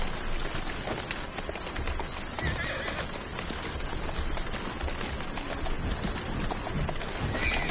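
Rapid hoofbeats clatter steadily as horses gallop in the video game Assassin's Creed Syndicate, with a horse whinnying partway through, all at moderate volume.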